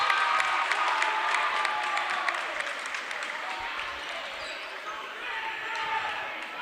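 Home crowd cheering and clapping in a gym at a boys high school basketball game, Waupun at Ripon, a steady roar with ball bounces and commentary running over it.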